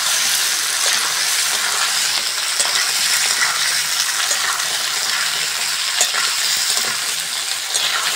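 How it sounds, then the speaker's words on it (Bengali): Potatoes fry with onions in a pan, giving a loud, steady, hissing sizzle that carries on without a break. "আলুটা ভালো করে ভাজবো।"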